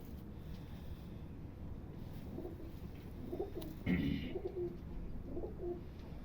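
A hand-held pigeon coos in low, soft bursts, close by, with a brief sharper flutter of sound in the middle and a steady background hiss.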